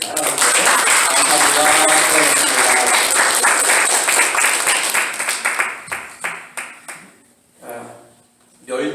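A church congregation applauds the choir members with loud, dense clapping that holds steady, then thins into scattered claps and fades out, followed by a brief spoken voice.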